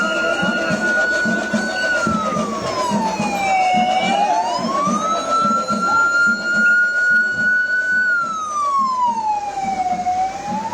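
A 108 ambulance siren wails loudly and continuously in slow rising and falling sweeps as the vehicle pushes through a dense crowd of Ayyappa pilgrims at Sabarimala, with crowd murmur and engine rumble beneath.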